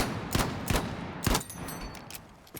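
M357 pistol fired from the hip in Battlefield 6: several sharp, separate gunshots spaced roughly half a second apart over a steady game background, no talk.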